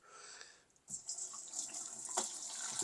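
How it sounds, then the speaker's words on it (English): Hot chicken broth pours and splashes steadily into a strainer, a soft continuous rush with a few louder gurgles, fairly close and quiet. "Pour into our strainer here."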